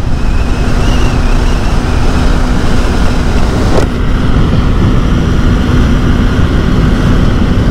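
A Yamaha Fascino BS6 scooter runs flat out at its top speed of about 95, a loud, steady engine drone with rushing wind noise that holds constant throughout, close up and with no talking.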